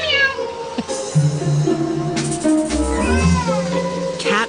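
Rescued cats at a crowded no-kill shelter meow repeatedly, several overlapping calls near and far, over a constant background hum.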